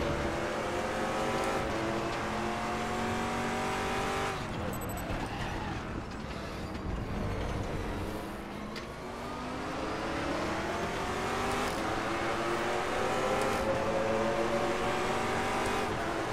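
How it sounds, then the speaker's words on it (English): Ford GT race cars battle in the sim racing game RaceRoom Racing Experience, engines roaring and rising through gears with repeated upshifts and revs, one car close and loud, another audible nearby, a brief tire chirp amid steady racing noise. "Just love these sounds, though. Ford GT versus Ford GT."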